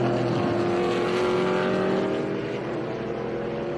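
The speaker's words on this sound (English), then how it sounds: "Classic overtake in turn 1, super clean." Race cars at Watkins Glen overtaking through turn 1, a continuous loud engine whine with a falling then steady pitch, cars close and passing under broadcast crowd ambience.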